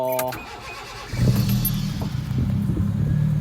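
A 2002 Honda City engine starts after a brief beep, then settles into a loud, steady low idle that carries on close by to the end, with a slight rise in the rumble partway through.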